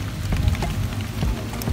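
Light drizzle falls around a mango tree being air-layered, giving a soft, brief patter of scattered drops close by, with no talk.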